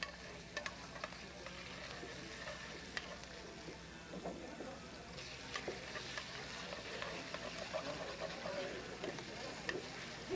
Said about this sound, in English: we just want to quick saute this off